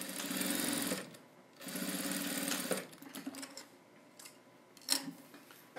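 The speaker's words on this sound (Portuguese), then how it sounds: "Vou passar a costura e mostro pra vocês." Domestic sewing machine stitching a thermal lunchbox, running in two steady bursts of rapid mechanical whirring with pauses between, followed by fabric handling clicks and a sharp tap.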